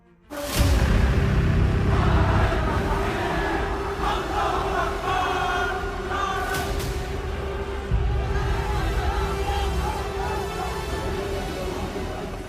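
A violent mob storming the Bangladesh parliament in Dhaka: a loud, dense roar of many shouting voices that keeps going without pause, swelling again partway through.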